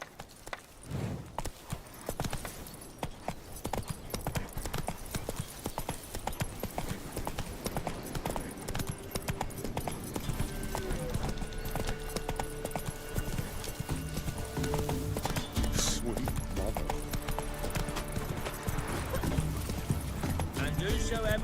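Horse hooves clip-clop steadily in The Witcher 3, a running gait with occasional whinnies, set among game music and effects while someone talks over much of it.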